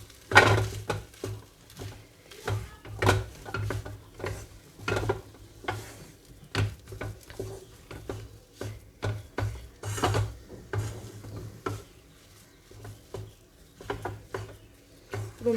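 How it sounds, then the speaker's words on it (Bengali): Garam masala and spices are stir-fried in a pan for Rajasthani mirchi pakora, with a steady rhythm of spatula scrapes and soft sizzling strokes, close and fairly quiet. "পুরো মশলাগুলো দিয়ে তোমরা এটা ভালো করে কষিয়ে নেবে।"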